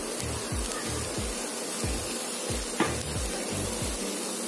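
Chopped vegetables sautéing with softened onions in a pan, a soft sizzle under a quick series of low rhythmic scraping strokes, close and fairly quiet.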